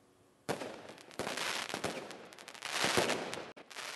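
Holiday fireworks and firecrackers explode in rapid, dense bursts, sharp cracks and booms piling into a continuous loud barrage after a brief quiet start, with a few distinct louder bangs standing out.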